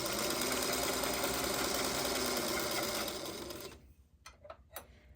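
Sewing machine stitching quilt block pieces, a fast steady mechanical whir for about three seconds that slows and stops, followed by a few faint clicks and handling sounds.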